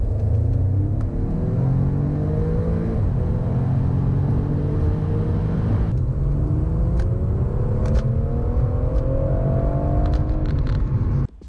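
A 2-litre turbocharged Audi S3 with a 7-speed dual-clutch gearbox accelerating hard from 30 to 70, its engine droning and rising in pitch through the gears, a brief dip at each quick shift, heard loud from inside the car.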